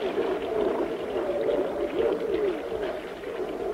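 Beluga whale in an open lead of the Arctic ice pack gives continuous wavering whistles and chirps, close and clear over a steady watery background, with no one speaking.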